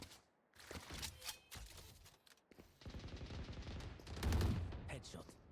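Gunfire in a tactical shooter video game, several sharp shots in quick bursts with footsteps between them, mixed with a player's talk over the game audio.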